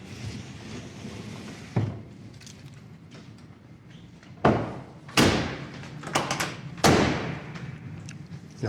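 Solid thuds from the door of a 1969 Mustang Fastback shutting with the window up, four or five sharp separate knocks at close range over a quiet background.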